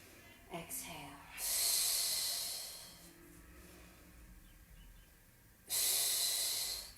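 A long, airy exhale through the mouth during a Pilates leg lift exercise at home, close and soft, followed by a second breathy hiss a few seconds later.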